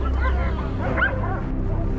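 Hunting dogs bay and yelp close by while chasing a wild boar through rugged mountains, with overlapping excited barks and whines packed into a short, loud burst.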